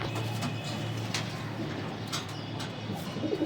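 A young male racing pigeon coos softly in a loft, with low, muffled throaty calls repeating over a steady background hum, fairly faint and close.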